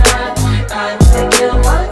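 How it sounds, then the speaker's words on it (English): A shaker layered onto a swung remix beat of SZA's Kill Bill, loud and up close, with punchy kick hits and bright rhythmic bursts repeating over two seconds. "Add a shaker."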